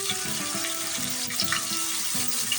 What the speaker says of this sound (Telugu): వీటిని అయితే ఇప్పుడు వేయించుకోవాలి. కొంచెం కరివేపాకు మళ్ళీ ఎండుమిర్చి అయితే యాడ్ చేసుకోవాలి.